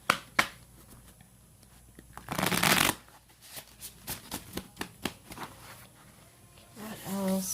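A tarot deck being shuffled by hand, with a dense riffling burst, then a run of quick card flicks and taps close by, and a voice starting near the end.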